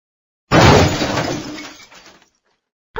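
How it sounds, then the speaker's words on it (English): A cricket ball dropped onto a thin glass pane smashes it in one loud crash, followed by a scatter of tinkling shards that fades out within about two seconds, with no speech. "The glass pane shattered."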